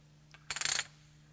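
A quick run of small, bright plastic poker chip clicks, six or seven in rapid succession as chips roll along an edge, close and crisp, with silence around them.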